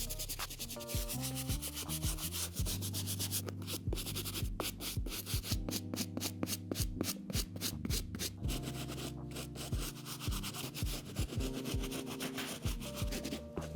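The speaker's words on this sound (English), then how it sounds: "you gotta get back to using this medium bristle brush." A medium bristle brush scrubs a Jordan 11 Legend Blue sneaker, giving steady, close, rhythmic bristle rubbing strokes that run continuously with no talking.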